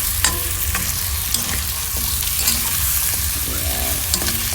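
Chicken afritada stirred in a hot pan, a steady dense sizzle of frying with intermittent scraping strokes of the utensil, close and continuous throughout.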